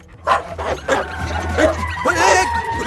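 A female dog yips and barks excitedly while chasing someone outdoors near a stopped vehicle, with repeated close, loud bursts mixed with shouting voices and a steady engine-like hum underneath.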